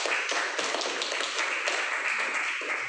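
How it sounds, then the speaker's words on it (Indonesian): Students in a classroom applaud a presenting group, a dense, steady patter of many hands clapping close by for about three seconds without a break. "kita beri tepuk tangan applause untuk kelompok 2."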